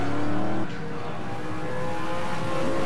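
A race car powers out of a corner at Yas Marina during a 2011 V8 race, its engine roaring loud and close, dropping briefly then climbing steadily in pitch as it accelerates away.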